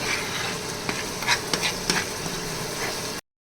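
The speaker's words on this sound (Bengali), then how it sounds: "এখন এই সব মশলাগুলো একসাথে খুব ভালোভাবে কষিয়ে নিতে হবে।" Spices frying together in a pan for Bangladeshi koi fish bhuna, a steady close hiss of sizzling broken by a few soft scrapes of stirring, with no talk.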